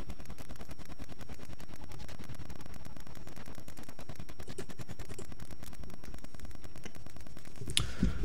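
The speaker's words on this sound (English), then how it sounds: "These siege tanks are in just the perfect position to hit all of Justice's units as they come to try to break it" Siege tanks in StarCraft fire in a steady, rapid rhythm of booming shots that blend into a continuous battle din, ending with a brighter burst near the end.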